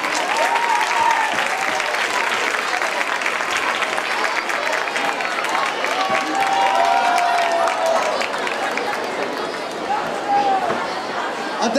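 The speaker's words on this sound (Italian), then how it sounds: "Ultimo applauso!" Audience applause at a final evening dance show, dense sustained clapping and crowd noise filling the room, with voices and a few cheers mixed in throughout.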